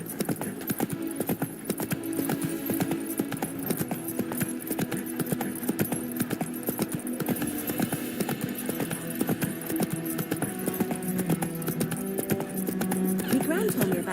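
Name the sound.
horse galloping in video game The Witcher III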